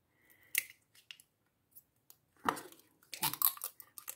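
Small Oriflame cosmetic capsules with black iris extract being opened: a few soft plastic clicks and crinkly snaps, scattered and close, with quiet gaps between them.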